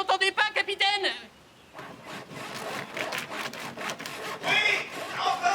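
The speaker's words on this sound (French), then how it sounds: "Oui, je scie." Wooden planks sawn by hand in a rapid, rasping back-and-forth rhythm; a voice speaks briefly at the start, and the strokes continue close and steady.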